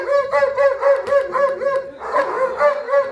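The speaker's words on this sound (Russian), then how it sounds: "В центре внимания – служебные собаки." Service dogs at a police kennel bark in a steady run of loud, close, repeated barks throughout, with no talk over them.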